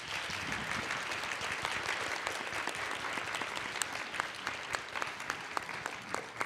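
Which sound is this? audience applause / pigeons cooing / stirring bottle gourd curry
audience applause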